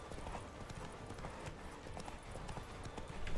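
Horse hooves clip-clopping steadily in The Witcher 3, a quick continuous gallop rhythm with dense game ambience underneath, close and fairly loud throughout.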